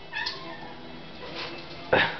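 A cat meows several times, a drawn-out call near the start, a softer one midway and a sharp, louder meow near the end, close by indoors.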